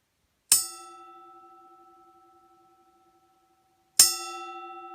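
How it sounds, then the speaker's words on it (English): A bronze bell cast with classical relief scenes, struck twice about three and a half seconds apart, each strike ringing out with a clear, sustained metallic tone that slowly fades, heard alone without talk. "let's have a listen to the bell"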